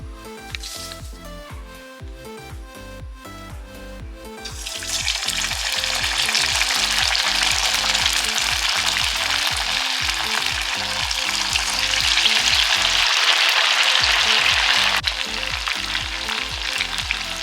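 Sabudana vadas deep-frying in hot oil on a medium flame, a steady loud sizzle that swells and grows denser after the patties drop in, with a pulsing low rhythmic layer underneath and no talking.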